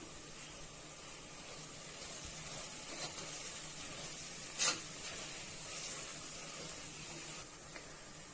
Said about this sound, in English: Now we are going to add the coriander powder, chili powder and a pinch of turmeric powder into it.